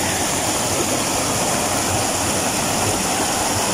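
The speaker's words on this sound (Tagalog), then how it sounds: "Ito yung ilog dito." A river flowing past a rural poultry yard, its water rushing in a steady, dense broadband roar that stays constant and close throughout with no pauses or talk.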